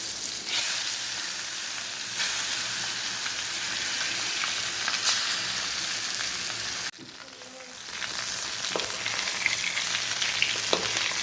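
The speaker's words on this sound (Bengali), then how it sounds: "এই যে একটা কড়াইতে মাছগুলো ফ্রাই করে নিচ্ছি।" Fish fry in a wok (kadai) with a loud, continuous, close sizzle and hiss. The sizzle dips sharply for a moment near the end, then picks back up.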